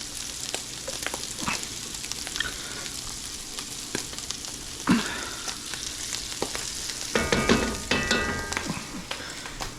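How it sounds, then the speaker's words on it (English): Sofrito sizzling steadily in a pot for arroz con gandules, a continuous bright frying hiss with occasional louder pops and a few stirring scrapes near the end. "Now we're going to add our sofrito."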